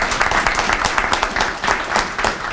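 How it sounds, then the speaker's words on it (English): A crowd at a Harris Teeter opening event at Bowie Marketplace claps for Shelley Gross-Wade, dense steady applause from many hands throughout, fairly close and lively. "If we can give Shelley a round of applause too"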